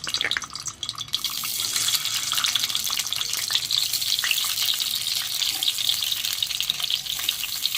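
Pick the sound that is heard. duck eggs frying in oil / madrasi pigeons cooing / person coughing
duck eggs frying in oil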